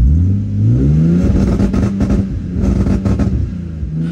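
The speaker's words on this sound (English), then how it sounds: "right now I'm able to play with like the actual rev limiter" A Lexus IS300 engine on a standalone ECU with spark-cut and ignition retard, bouncing off a 4,000 RPM rev limiter: a loud, close, aggressive stuttering drone with rapid popping cuts, no talk.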